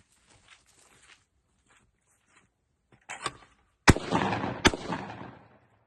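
A shotgun is fired at a target, two sharp loud blasts close by, each followed by a short rumbling decay, after a mostly quiet stretch with faint handling noises.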